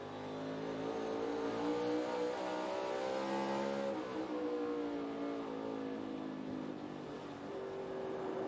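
Onboard a NASCAR Cup race car driven by Austin Dillon on the Bristol dirt track, its engine drones loud and steady with rising and falling harmonics as it works through the lap, near and continuous with no talk.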